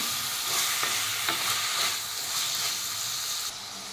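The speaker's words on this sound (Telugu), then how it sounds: "ఇవంతా ఒకసారి కలుపుకోవాలి" Mutton liver fry sizzles in a pan while a spoon stirs it, with repeated scraping strokes over a continuous loud hiss.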